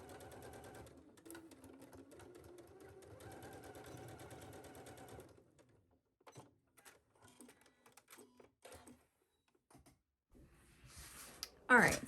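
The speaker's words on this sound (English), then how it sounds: "we're going to take this to our sewing machine and sew it at 5/8 of an inch seam allowance on each side" A sewing machine stitching a 5/8-inch seam on a McCall's M8475 garment, quiet rapid mechanical chatter in a steady run for several seconds, then short intermittent bursts; faint and close.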